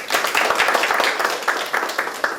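An audience at a school arts education policy forum applauds warmly, giving a loud, dense burst of many hands clapping together, close and steady for the whole stretch with no talk.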